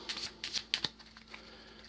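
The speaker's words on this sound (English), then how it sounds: "Give these another quick shuffle." A deck of Arkham Horror Third Edition cards gets a quick shuffle: a few soft, papery riffle bursts close by, fading into a faint rustle.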